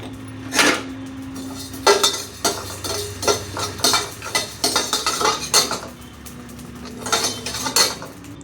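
Coriander seeds and cumin dry-roast in a pan for a curry leaf podi, a spoon clinking and scraping against the metal in irregular bursts of stirring, close and fairly loud, with no talking.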